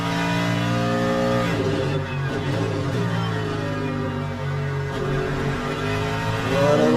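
Porsche race car engine in a racing video game, a GT3-style hypercar at Imola, droning steadily at high revs with harmonic pitch shifts through gear changes and a rising surge near the end.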